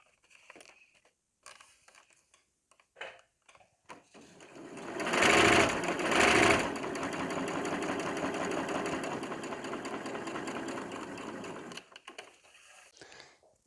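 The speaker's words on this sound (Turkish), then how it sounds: "buradaki gördüğümüz çizgiden makina dikiş çekeceğiz" After a few soft handling clicks, a sewing machine stitches a seam on folded table runner fabric with a fast, even whir for about seven seconds, then stops. The sound is close and moderately loud, with no talking.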